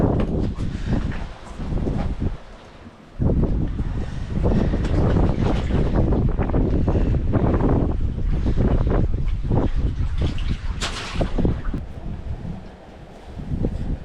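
Strong wind buffets a microphone in gusts, with a short lull early on, rushing and roaring throughout with no clear talk.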